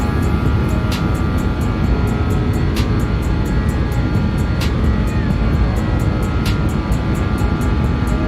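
Steady, loud roar of BAe 146 jet engines in the X-Plane 11 flight simulator, a continuous broadband drone holding level throughout, with faint periodic clicks ticking above it.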